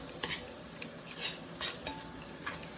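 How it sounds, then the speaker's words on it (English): All-purpose flour is stirred into garlic in a pan, with soft scraping and clinking strokes of a utensil over a steady low sizzle, close by. "Give that a quick stir."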